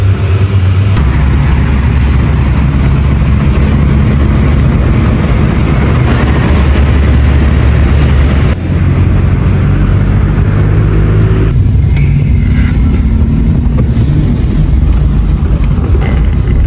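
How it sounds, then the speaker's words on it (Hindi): A mosquito-killing spray fogging machine runs nonstop, a loud, steady droning engine with a low hum that shifts pitch abruptly a few times, with no voices over it. "मच्छर मार स्प्रे चल रहे हैं"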